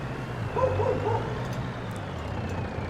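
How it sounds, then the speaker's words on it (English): In Farming Simulator 22 with the Creatures mod, a dog gives a couple of faint barks and yips in the distance over a low steady vehicle rumble. "the dogs and the other ambient noises that you hear in the background are part of the Creatures mod"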